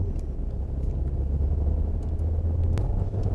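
A Volvo XC90 T6 AWD pulls away on a wet test track for a braking run, its engine a steady low rumble with faint tire and road noise, heard from a distance.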